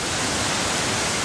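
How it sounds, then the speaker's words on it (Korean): Yuancheong first waterfall in Geumwonsan forest, swollen after heavy overnight rain, gives off a loud, dense, unbroken roar of falling water heard close up with no voices. "여기는 제1폭포입니다. 유안청 폭포입니다."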